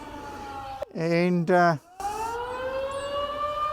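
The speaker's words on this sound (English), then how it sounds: "The fire siren's gone off." A town fire siren wails outdoors in a long, steady rising and falling tone. A voice breaks in briefly partway through, and then the siren carries on loudly.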